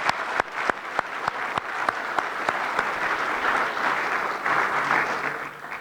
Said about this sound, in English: Please give them a round of applause for all they do in our community